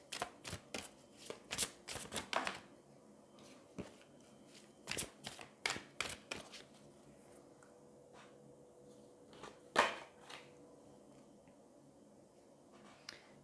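Angel oracle cards shuffled by hand in close, crisp riffling bursts and taps, several separate rounds spread across a quiet room, with pauses in between.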